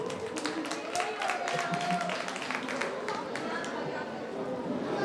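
Audience at a Jain Dashlakshan Parv religious gathering in Mansarovar clapping for the president, a brief burst of applause mixed with loud crowd chatter that carries on as the clapping fades.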